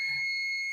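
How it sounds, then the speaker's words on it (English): An alarm sounds as a steady, piercing electronic tone held continuously at close range, with a brief low murmur at the start. "Oh, mind the alarm."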